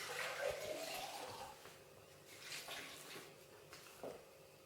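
Water poured from a jar into a bread dough mixture for sourdough loaf, a soft close splash and trickle lasting a few seconds with faint sloshing afterward.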